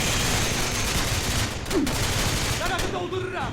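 Gunfire in a tank combat game, a dense, steady rattle of shots running throughout at moderate loudness, with a brief voice and a few faint tonal blips near the end.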